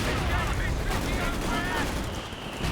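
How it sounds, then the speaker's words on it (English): Mortars firing in a Company of Heroes 2 match, a dense wash of booms and battle noise running continuously beneath a voice. "we've got mortars now firing on this machine gun"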